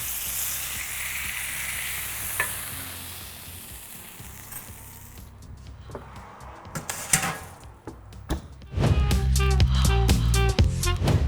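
Meat sears in a hot pan as it is browned on all sides before going into the oven, a steady sizzle under kitchen clatter, then louder bursts of spitting fat and knocks of the pan toward the end.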